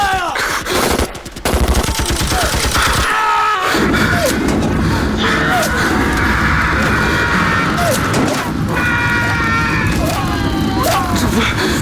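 Heavy gunfire in a firefight scene, rapid bursts and single shots crackling continuously over loud background action, with shouting voices mixed throughout.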